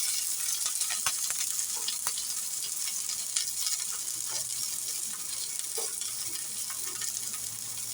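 Onions and curry leaves fry in oil with mustard seeds for a ridge gourd kulambu, giving a bright, steady hiss of sizzling with occasional light crackles and scrapes; close but fairly soft, no one talking.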